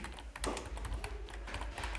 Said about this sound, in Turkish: Shift Home tuşuna bastık klavyeden